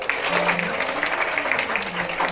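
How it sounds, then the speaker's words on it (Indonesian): High school students at a Maulid Nabi gathering clap for a speaker, a brisk, uneven patter of hands with some faint voices or cheering mixed in underneath. "tepuk tangan untuk Bapak dulu lah"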